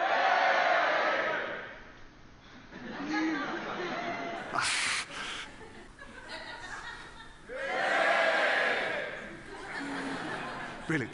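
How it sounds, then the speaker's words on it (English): A group of children and adults shouting together on cue during a science demonstration, two loud swells of voices separated by softer chatter and laughter. "Okay, how about if everyone over there shouts?"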